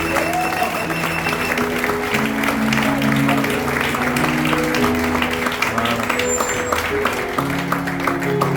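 A church congregation applauds for the pastor during a Sunday service, with sustained dense clapping mixed with singing voices and music from start to finish.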